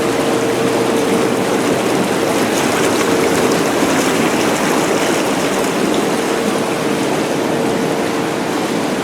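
An Intex inflatable four-person hot tub in a garage runs its bubble jets, giving a loud, constant rushing and churning of pumped air through water with a steady motor hum underneath and no pauses.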